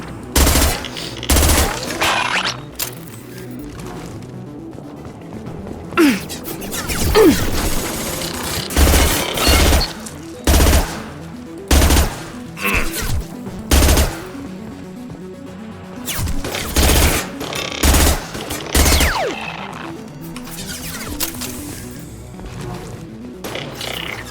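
Heavy gunfire from a weapon in the Mass Effect video game, loud bursts of rapid shots repeating in clusters across the whole stretch, with crashing impacts between volleys and no talking.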